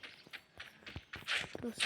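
Footsteps in the shooter game Free Fire patter in quick irregular bursts, close and fairly crisp, growing denser and louder toward the end over a faint background.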